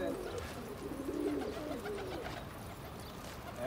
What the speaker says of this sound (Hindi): देखो ये कबूतर